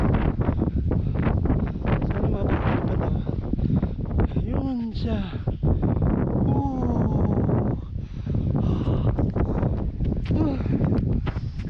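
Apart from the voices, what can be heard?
wind blowing into microphone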